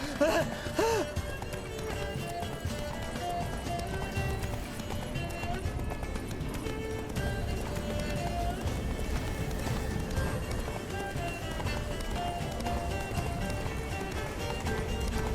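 Geralt's horse Roach gallops in The Witcher 3, a steady rapid clip-clop of hooves running under music, with a brief whinny near the start and voices talking over it.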